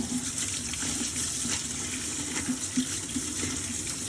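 Tap water runs steadily into a sink while blue crabs are washed under it. The gushing stream is close and continuous, with small splashes and knocks as the crabs are handled.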